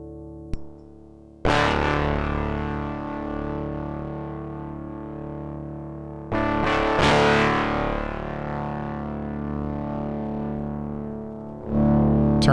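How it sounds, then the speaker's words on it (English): Tube overdrive from a Metasonix F-1 complex distortion pedal on a guitar: loud, sustained distorted chords ringing out and decaying, restruck around two and six seconds, with a new strum at the end, no talking. "And we've got some really nice sounding tube overdrive there"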